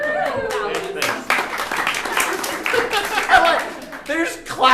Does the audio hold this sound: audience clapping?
yes